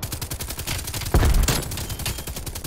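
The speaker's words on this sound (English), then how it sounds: "That purple anime tracer fire is amazing." An RPD machine gun fires in Call of Duty Cold War with purple anime tracer rounds, a dense loud burst of rapid gunfire over steady battle noise, peaking sharply near the middle.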